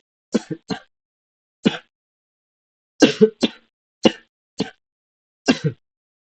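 Short, sharp coughs come in small clusters of one to three, separated by silent pauses, close and fairly loud.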